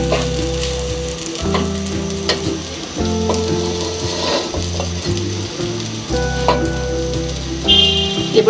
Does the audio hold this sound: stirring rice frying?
yes